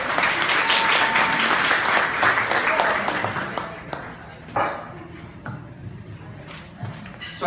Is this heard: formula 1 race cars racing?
no